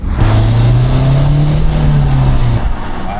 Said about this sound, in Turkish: Evet araba gazlıyor.